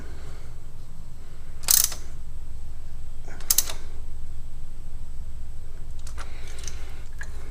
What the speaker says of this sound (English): Grab the wrench and maybe just give it a little extra twist.